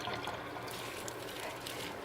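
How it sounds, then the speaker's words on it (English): Water from a pot of boiled potatoes pours out in a steady, close splashing stream that runs without a break from start to finish, with no voices over it. "We're gonna let most of the water out, almost all of it."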